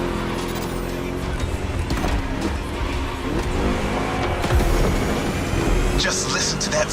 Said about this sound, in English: Just listen to that V8 like a chunky, down-tuned guitar riff